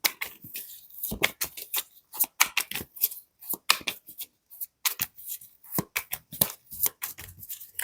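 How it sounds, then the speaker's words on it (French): Tarot cards are handled and one is laid over another, giving a quick run of dry papery flicks and taps, close and fairly quiet, with nobody speaking. "Je vais recouvrir la carte de la persévérance."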